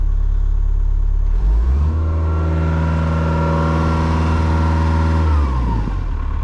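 A Hitachi EX100 excavator engine idles, then revs up to a loud steady drone for a few seconds before dropping back down, heard close with no talk.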